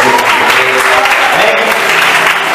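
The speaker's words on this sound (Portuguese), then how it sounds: "Vamos dar uma salva de palmas para ele" Applause from a youth church gathering in Alto Vera Cruz, Belo Horizonte: dense, loud, continuous clapping filling the whole stretch, with some crowd noise mixed in.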